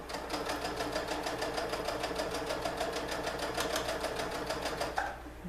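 A sewing machine runs a straight stitch along a cotton lycra leggings seam at a quarter-inch allowance, a rapid, even needle chatter that holds steady and close for about five seconds with no talk.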